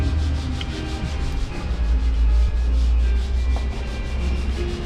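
A power sander grinds rust off the metal body of a 1967 Dodge Dart, a steady, loud abrasive whir with a constant low hum, running close and uninterrupted with no talk.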